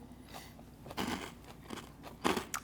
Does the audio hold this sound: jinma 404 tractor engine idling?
no